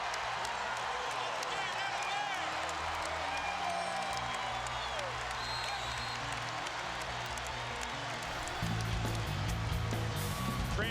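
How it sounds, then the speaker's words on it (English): Basketball arena crowd in Raleigh erupts in loud, sustained cheering and whooping after a fast-break foul during a college game, Pittsburgh against NC State, with the roar swelling further near the end. "Transition basketball gets the crowd going in Raleigh"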